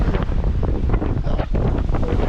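Wind at sea aboard a sailing boat near the equator: a continuous, loud gusting rush buffeting the microphone, with no talk.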